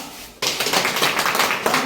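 Applause breaks out suddenly after a quiet moment at a human rights association meeting in Jhajha, Bihar, a dense, loud patter of many hands clapping steadily.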